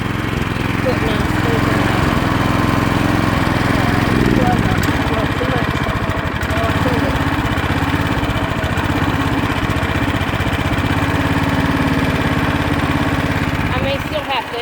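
A rototiller's small engine runs loudly up close, a steady throbbing drone that misses slightly and stutters unevenly at times, with talk partly under the noise.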